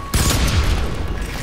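Gunfire and an explosion in the video game FEAR 3: a sudden loud blast bursts in, followed by a dense, sustained rattle of rapid shots and booming noise lasting to the end.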